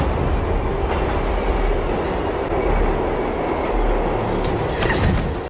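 A train rumbles past close by with a steady roar, wheels screeching in a thin, sustained squeal partway through.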